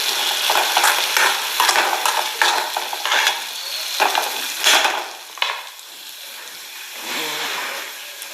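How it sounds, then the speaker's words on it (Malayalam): Vegetables for upma sautéed in a pan, giving a bright continuous sizzle and hiss with frequent stirring scrapes and clinks, close and fairly loud, with no voices. "നല്ലോണം വഴറ്റി പച്ചക്കറിയുടെ പച്ചമണമൊക്കെ മാറിയതിലൂടെ ഇളക്കി കൊടുത്ത്"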